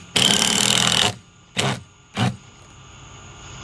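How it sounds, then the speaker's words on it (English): A power driver whirs for about a second, then gives two short bursts as a screw is driven home into a pocket hole in wood, with quiet pauses between. "just go ahead and shoot a screw in right here"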